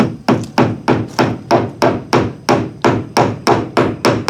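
Nails being hammered into wood, a steady run of about fifteen sharp, close, evenly spaced strikes with no talking.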